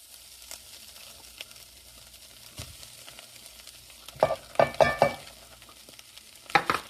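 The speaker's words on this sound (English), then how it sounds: "stir in the onions for about a couple minutes" Ground beef and onions sizzle and fry in a pot for homemade chili, with a soft continuous crackle under a few louder scraping stirs that come in a quick cluster, then once more a moment later.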